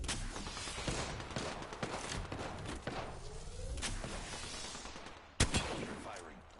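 Rapid video game gunfire crackles through a tense firefight, dense bursts of shots with a sharp loud report near the end, while players talk over it.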